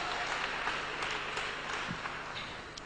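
A church congregation in London claps together in a dense, continuous patter of many hands, with voices faintly mixed in throughout the short burst.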